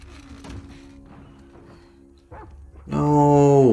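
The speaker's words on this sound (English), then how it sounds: "I don't want to mess with the doggy." A dog in the video game The Last of Us Part II barks in a loud, harmonic burst at the end, following quieter game ambience with faint murmuring and a low hum.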